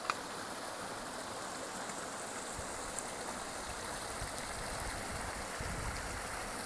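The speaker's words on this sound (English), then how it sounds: "Put a little leaf so the water flows better so you can collect it better for your water bottle" Continuous broadband rush of water trickling from a spring over a leaf on the Appalachian Trail, steady and close with no voices.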